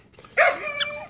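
An eight-week-old puppy lets out a single high, sharp yip, brief and close, followed by a softer trailing whine against quiet background.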